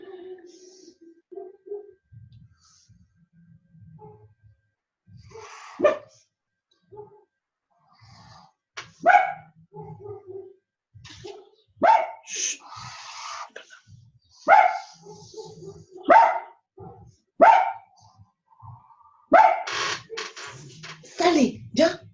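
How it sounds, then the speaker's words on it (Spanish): A dog barks repeatedly indoors in a series of sharp, fairly close barks that grow louder and more frequent toward the end, with quieter whimpers and a person speaking softly in between. "Ay, qué perro más odioso."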